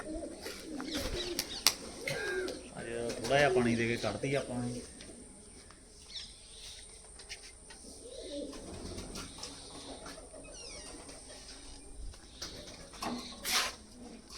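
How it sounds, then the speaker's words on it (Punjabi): Tumbling pigeons coo softly in a loft while a female pigeon is given water, faint and intermittent, under someone speaking nearby. "ਇਹ ਕਬੂਤਰੀ ਛੱਡਦੇ ਆਪਾਂ"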